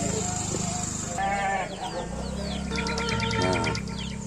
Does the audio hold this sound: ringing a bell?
no